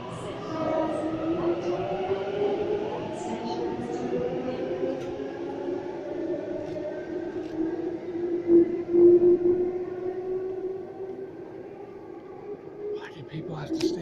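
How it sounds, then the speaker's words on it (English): A Sydney Waratah electric train pulls into platform 5 at Epping station, a long rising and falling motor whine with rumble and squeal, while someone talks over it. "We should have a Waratah arriving into platform number 5 here at Epping"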